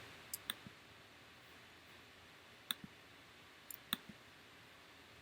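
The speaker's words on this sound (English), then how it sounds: "Now I click Accept to accept this data." Sharp, isolated computer mouse clicks, several single and a few in quick pairs, land close and distinct over a faint steady room hiss with no talking.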